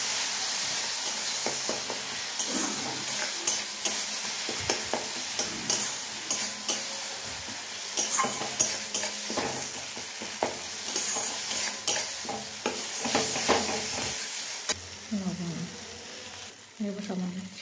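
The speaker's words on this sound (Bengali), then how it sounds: "এবার এটাকে কষবো।" A spice paste of ground ginger with turmeric, coriander and cumin powders is stirred in a pan, with steady scraping strokes over a soft sizzle and a few louder bursts of frying near the end.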